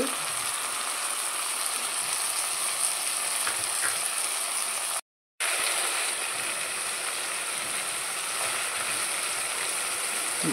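Chopped bottle gourd pieces sizzle and fry steadily in a pan for Tamil Nadu style sambar, a continuous close crackling hiss that drops out briefly midway before resuming.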